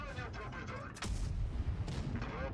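A single sharp tank cannon blast in the WoT Blitz online tank game cracks out with a booming rumble after it, set over a bed of low in-game battle noise and a voice talking.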